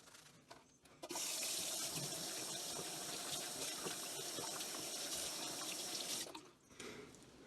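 A faucet runs in a steady gushing stream for about five seconds as hands rinse beneath it, then shuts off.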